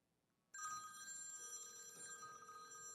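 A phone rings loud and clear after a click-to-call is placed from a customer service agent desktop, a steady electronic ringtone that starts abruptly after half a second of quiet and carries on without a break.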